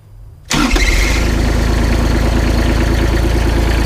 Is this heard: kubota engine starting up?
yes